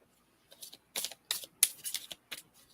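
Tarot cards being shuffled nearby in short, crisp riffling bursts, several quick clusters of papery clicks with brief pauses between them.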